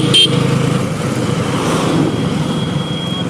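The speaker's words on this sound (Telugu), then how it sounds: "ఇక్కడ కొంచెం ట్రాఫిక్ ఉంటుంది." Road traffic in the small town of Gajapathinagaram, heard as a loud, continuous rumble of engines and road noise with a brief sharp burst near the start and no speech.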